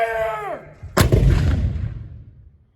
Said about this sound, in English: You may even experience a cannon firing there.